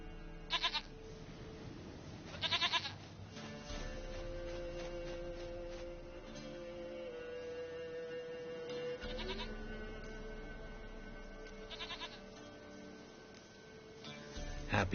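A goat in The Witcher 3: Wild Hunt bleats in several short, loud bursts spaced across a steady bed of game music and ambience.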